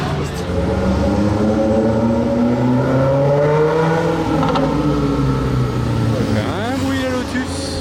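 A Lotus sports car engine drones and revs nearby in a Monaco street, its steady tone rising and falling and loud throughout, with talk over it.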